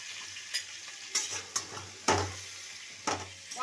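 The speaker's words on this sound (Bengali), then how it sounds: "পটলগুলো ভাজা হয়ে গেছে" Pointed gourd (potol) pieces fry in hot oil with turmeric and salt, a steady sizzle broken by several sharp scraping clatters of a spatula stirring in the pan.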